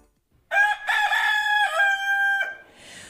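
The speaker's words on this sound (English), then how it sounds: "Well, that was a rooster," A rooster crows a single loud, close cock-a-doodle-doo, a bright harmonic call lasting about two seconds that breaks off sharply, with quiet before and after.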